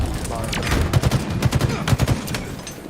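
Gunfire in a video game rings out in several quick bursts of sharp shots, mid-distance and fairly loud, with faint talk underneath.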